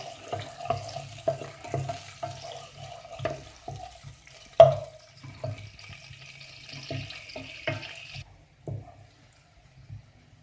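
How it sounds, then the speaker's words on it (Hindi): Chopped onion fries in hot oil until golden, a soft intermittent sizzle broken by stirring clatter and a sharp utensil knock, fairly close with no talking. "इसको हम गोल्डन फ्राई करेंगे।"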